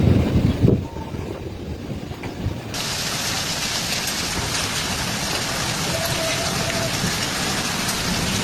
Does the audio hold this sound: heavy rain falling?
yes